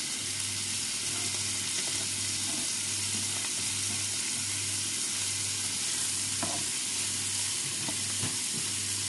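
Pork cheek frying in a pan for carbonara, a continuous loud sizzle with crackling pops and occasional stirring, close up and with no talking.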